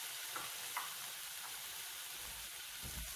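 Diced carrots and celery sauté in hot oil, a faint steady sizzle with soft stirring touches, quiet and continuous, no voices.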